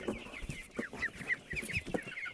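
Broiler chicks and young chickens clucking and chirping close by at a poultry sale, a busy overlapping flock chatter with no talking.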